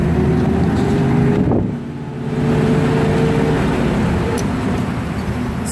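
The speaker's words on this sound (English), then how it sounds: "We're in first gear now, let's shift into second." A 1961 Corvette engine runs loud and steady in first gear, a continuous close drone with low harmonics, dipping briefly around the midpoint before resuming at full strength.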